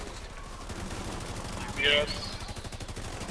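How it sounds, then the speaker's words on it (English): Rapid automatic gunfire crackles in The Division 2 during a raid, a fast rhythmic stream of shots under players talking over voice chat. "Shooting on the right side."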